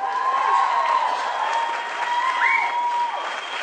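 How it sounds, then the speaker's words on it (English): Applause from a crowd at a sweet sixteen party: steady, dense clapping held at an even level from start to finish, with a faint whistle-like tone running beneath it. "Give her a nice round of applause out there."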